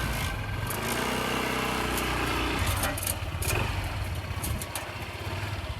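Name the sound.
motorcycle riding slowly up a ramp onto a truck camper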